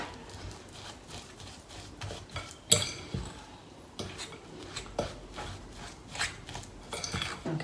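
Bananas being mashed into a banana bread batter, giving soft squelching and scraping with light clinks of utensil against a bowl, continuing steadily with a sharper knock near the start.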